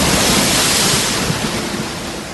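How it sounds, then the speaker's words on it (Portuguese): Storm-driven waves churning on a lake, a loud, continuous broadband wash of surf and wind with no voices, steady and close. "uma grande tempestade agitou o lago, de tal maneira que as ondas começaram a cobrir o barco."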